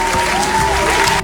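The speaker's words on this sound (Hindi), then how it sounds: "और हम बजाएंगे तालियां" A short, steady burst of clapping fills the whole moment, with a faint sustained tone beneath it.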